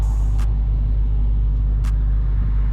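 Dodge Hellcat Widebody engine idling steadily with a deep, loud low-frequency rumble throughout, close by, broken only by two brief clicks.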